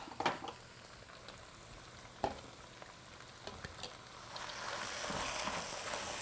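Chopped vegetables for a Long Island fish chowder tumble into a pot and begin cooking, a few soft thuds and stirring knocks giving way to a steady, rising sizzle.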